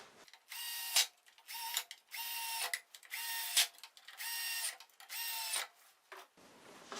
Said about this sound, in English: to speed things up, I use a power driver